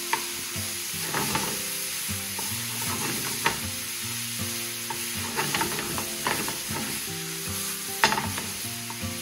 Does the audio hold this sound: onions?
yes